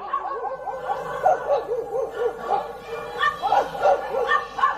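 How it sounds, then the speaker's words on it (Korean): A puppy barks and yips over and over in quick, high-pitched bursts, close and fairly loud. "예, 강아지 소리예요."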